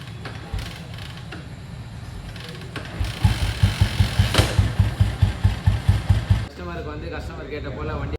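A restored second-hand motorcycle fitted with an open exhaust idles and then revs into a rapid, throbbing pulse of loud beats, close up, settling back to a lower idle, with a voice talking over it.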